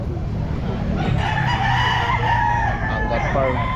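A young rooster, a stag, crows at a pet market, a loud, drawn-out call close by over a busy crowd murmur with other fowl clucking, and someone speaks briefly.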